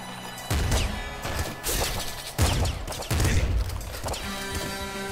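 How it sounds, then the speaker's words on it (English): Assault rifle gunfire in Nuclear Throne, a run of loud, close bursts of shots mixed with crashing impacts and a constant game soundtrack underneath. "Assault rifle."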